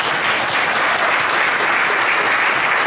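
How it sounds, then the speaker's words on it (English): At a 50th anniversary event, a large audience gives a loud, unbroken round of applause for honored pioneers, dense and close throughout with no talking. "not only should we be giving them a huge round of applause"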